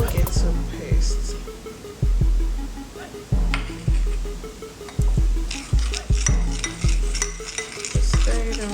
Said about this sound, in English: Just stir it around and mix it well.